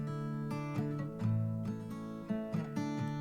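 A single strummed acoustic guitar track sits in the center, playing sustained chords with a few accented strokes, close and fairly loud, no one speaking.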